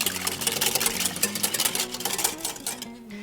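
Wet ingredients for a coffee-infused tres leches cake are whisked briskly in a bowl, making a fast, continuous rattle of clinking taps that stays close and steady before easing off at the end.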